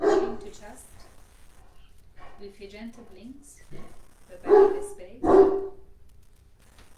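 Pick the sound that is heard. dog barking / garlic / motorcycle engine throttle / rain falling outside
dog barking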